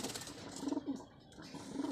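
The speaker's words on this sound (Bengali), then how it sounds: "এটা হলো 14 লেজের কবুতর।" Deshi-blood pigeons with fourteen tail feathers cooing softly: a few low, faint coos drift in over quiet background noise, with no voices.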